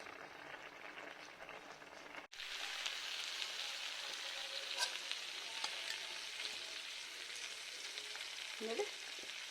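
Chicken pieces sizzle in a pan with capsicum, onion and garlic. A brief cut gives way to a steady, close frying hiss, with occasional stirring clinks and no voices.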